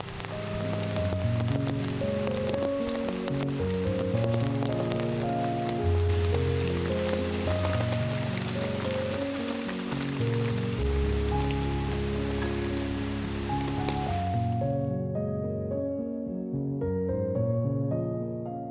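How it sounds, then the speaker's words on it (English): Rain falls steadily outdoors, a dense continuous hiss of drops striking surfaces that stays even and loud before cutting off near the end, with tonal sounds beneath. "We got interrupted by the rain."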